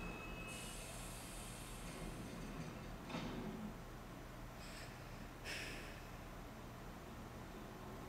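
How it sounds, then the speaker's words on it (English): A subway train rumbles through a Splatoon 3 game scene, a steady low rail drone with high-pitched wheel squeals breaking out several times, heard without talk. "Wait, that's the subway from the downloadable content thingamajig in Splatoon 2."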